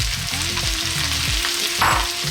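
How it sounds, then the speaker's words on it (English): Potatoes and cauliflower sizzle loudly in a pan for an Indian vegan dish, with scraping stirring strokes every half second or so over a constant, close hiss of frying. "let's go for 3 more minutes, stirring it around"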